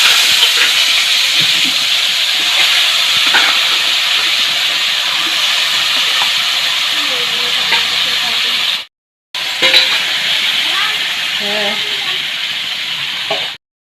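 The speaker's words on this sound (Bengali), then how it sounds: "এখন দিয়ে দিব পাঁঠার মাংস" Goat meat dropped into a hot kadai that still holds the oil from frying potatoes, giving a loud, steady steaming sizzle that runs close and continuous, cuts out briefly near the end, then resumes.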